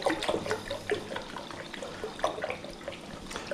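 Liquid sloshes and swirls in quick, uneven splashes as water is stirred briskly in a home-brewing bucket, close by and fairly loud, with no talking.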